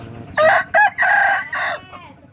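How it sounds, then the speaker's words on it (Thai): A rooster crows loudly and close by, one long broken crow of several strained, harmonic syllables rising out of a quiet farmyard background. "นี่ไก่ที่บ่ตูนซื้อหลายสุดแล้ว"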